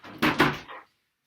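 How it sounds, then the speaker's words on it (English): An indoor door swings and shuts with a scraping rush and a solid thump, followed by a short knock-like tap after a moment of silence. "I'm just going to shut my door."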